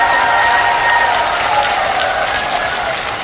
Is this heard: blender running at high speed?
no